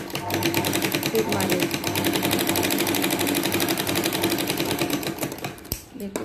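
Sewing machine stitching a katori blouse, a rapid steady needle chatter running for several seconds close by before stopping near the end, with a voice faintly in the background.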